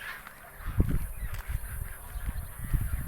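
Several short honking quacks from Pekin ducks, close by, over a low rumbling background with a few bursts of activity.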